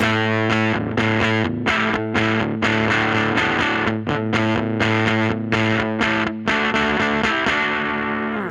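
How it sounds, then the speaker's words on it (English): Electric guitar through a Dr No Evil Motherfuzzer fuzz pedal chugging a driving riff, thick and saturated with short choppy breaks between bursts, loud and continuous with no voices. "on these really obscure kind of fuzz pedals"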